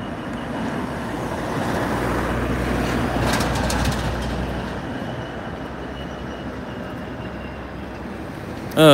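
A DB red Class 66 diesel locomotive heading a freight train at a level crossing rumbles past steadily, a loud continuous low drone with wagon noise, then eases off before a brief bump at the end.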